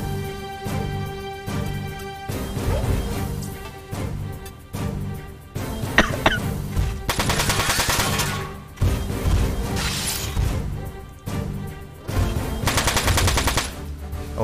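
Gunfire from pot shots in the video game Front Mission 4, heard as repeated loud bursts of mechanical shooting separated by short pauses, with crashes and impacts under a steady game music tone.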